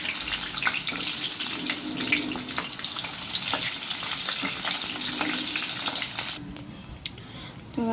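Whole scored onions fry in hot oil for a Kathiyawadi whole-onion curry, making a steady, close, bubbling sizzle with light stirring taps that drops off sharply near the end.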